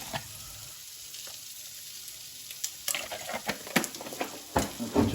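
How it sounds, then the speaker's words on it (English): A whisk beats eggs with milk in a bowl for Spanish eggs, with quiet background hiss giving way to a run of irregular, close tapping and scraping strokes that grow busier toward the end, with no talking. "We're going to whisk that in again now."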